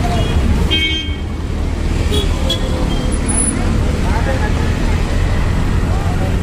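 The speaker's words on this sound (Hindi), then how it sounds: "ट्रैफिक लगा है पूरा" Dense road traffic in an Indian traffic jam, with a steady loud roar of engines close by and a few short car horn toots rising over it, while people talk.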